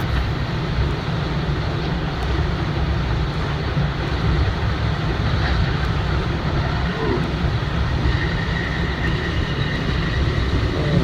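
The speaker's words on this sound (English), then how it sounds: "And this is one of the railroad's faster trains." A Long Island Rail Road M3 commuter train rolls past on the tracks near the Interborough Parkway overpass, a loud continuous rumble and wheel roar that stays steady and close throughout, with no talking.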